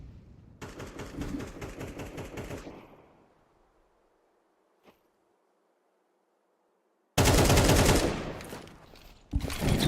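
Rapid automatic bursts in a competitive pro-league shooter match: a loud stream of shots for about two seconds, a near-silent stretch with one faint click, then another loud burst and a final short volley.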